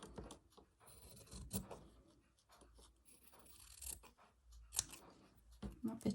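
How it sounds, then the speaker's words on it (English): Scissors snipping through fabric on a small embroidery square, with quiet close irregular cuts and light handling rustle. "let's do some snipping"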